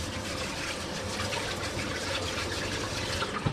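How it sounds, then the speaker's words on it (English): Wet metal sponge scrubbing food under water, a steady broadband wet rasping with running-water wash throughout, close and continuous with no talk. "you take the metal sponge, you dip it in water and you just scrub"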